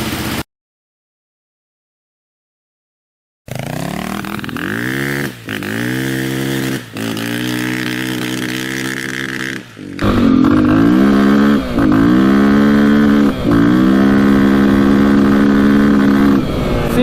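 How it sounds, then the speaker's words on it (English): A KTM 450 motorcycle engine revs hard in neutral, loud and close, in repeated bursts that climb and drop, with a brief silent gap early and a rougher, louder stretch of revving later, no voices. "Sounds like it's revving out all the way in neutral."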